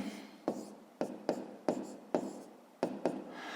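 Pen writing on paper during a fifth-grade maths exercise, a series of short scratchy strokes in an irregular rhythm, close and quiet.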